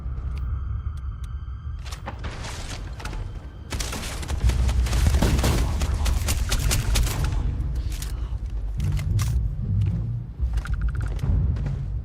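Enemy gunfire in Starfield survival mode, a jumble of loud bursts and heavy thumps over a deep rumbling background, firing clustered in the middle and trailing off to scattered shots.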